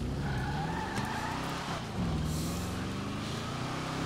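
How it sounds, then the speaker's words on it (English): Car engine in GTA 5 Online during a race, a loud continuous motor drone with rising and falling revs and a brief tire-skid texture, filling the whole clip with no talk. "I'm thinking that motor is way too loud."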